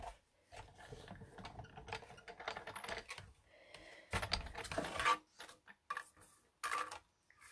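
A Big Shot die-cutting machine cranks layered paper through in uneven bursts of clicking and grinding, close and fairly quiet, with short pauses between turns.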